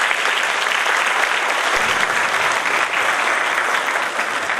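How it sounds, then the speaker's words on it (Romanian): An audience at a national folk music festival and competition breaks into steady, loud applause, a dense wash of clapping that holds evenly throughout with no voices on top. "Vă rog să-i aplaudați."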